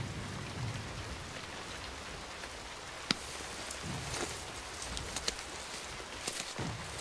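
Steady rain falling outdoors during a war scene, a continuous hiss with scattered drops and a few sharp close ticks, moderately loud and with no voices.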